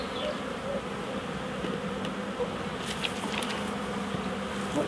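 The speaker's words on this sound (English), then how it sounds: "There's still quite a few wasps here." Wasps and bees buzz in a busy swarm around beehives while hives are being united, a steady dense drone with occasional louder passes near the listener.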